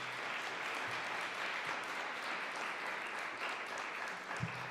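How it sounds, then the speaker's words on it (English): Faint, steady applause from an audience at a rocket launch program announcement, honoring university aerospace students seated up front, continuous without voices. "Everybody give them a round of applause."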